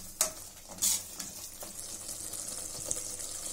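Soaked chickpeas are stirred and sautéed in a pan: a soft, fairly quiet sizzle broken by a few sharp scraping and clattering strokes of the spoon near the start.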